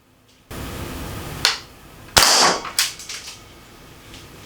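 Umarex Strike Point air pistol at an indoor range, a few sharp close cracks as pellets fire into a block of spam, with hissing and faint clatter between shots.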